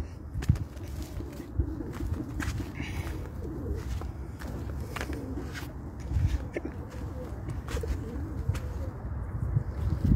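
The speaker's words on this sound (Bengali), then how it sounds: "শত শত পায়রা এখানে।" Hundreds of pigeons flock in a hilly, courtyard-like open area, their overlapping coos forming a steady low murmur, with scattered wing flutters and small sharp clicks throughout.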